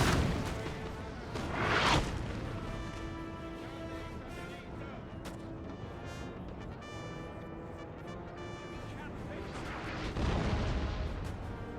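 Cannon and howitzer fire in a Napoleonic-era strategy video game: booming blasts around the start and near the end with a sustained battle rumble and layered tones between, voices faintly mixed in.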